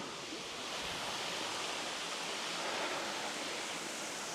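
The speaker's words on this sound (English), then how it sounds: "it's definitely not the largest waterfall in the world, but it's very pretty" A small, pretty waterfall in a green landscape, heard as a steady, full broadband rush of falling water that stays even and continuous throughout, with no voices.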